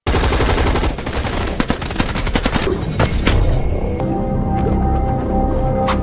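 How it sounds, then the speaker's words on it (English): Dense gunfire from troops in a movie scene, with rapid overlapping bursts and single shots that thin out and give way to lighter scattered cracks over a lower rumble. "Unfortunately, the Russian troops continued to fire at them until Devon was hit by a bullet"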